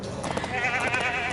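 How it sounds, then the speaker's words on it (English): A goat in the Lego The Hobbit video game gives a single wavering bleat, loud and close, lasting about a second. "It's a good swimmer, this goat."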